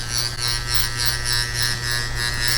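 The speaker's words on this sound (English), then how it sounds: "I just love hearing the hair being cut." A close, continuous clipper buzz during a bald skin fade haircut, with rhythmic swells of crunchy cutting noise as the blades pass repeatedly through hair.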